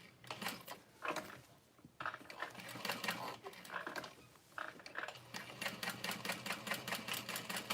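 A sewing machine stitches a handbag, running in short bursts of rapid needle clatter with brief stops between as it goes back and forth over the same spots, close and fairly quiet.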